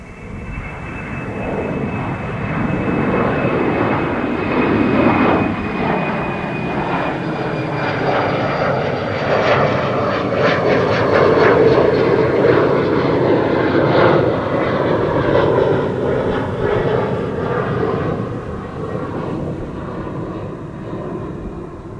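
An Embraer 190 airliner departing Schiphol roars steadily at full takeoff thrust, with a broad jet rumble swelling and fading slightly as it climbs away at moderate distance.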